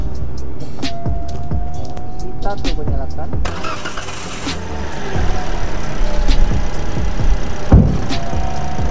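A 2019 Toyota Calya E 1.2 manual cranks and starts, then settles into a quiet, even idle, with some speech and handling noises around it.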